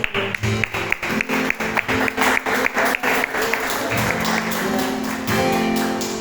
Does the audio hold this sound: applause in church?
yes